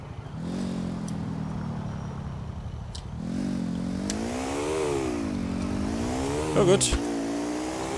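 Engine of a car in the video game GTA IV revving and accelerating at full throttle, its rising and falling whine sustained loud throughout, with a brief spoken remark near the start.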